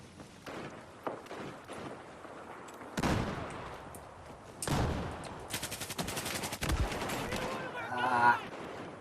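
ACE 52 CQB rifle firing in Battlefield 4, with rapid bursts of gunfire between quieter stretches, footsteps and game noise around them, all at moderate loudness.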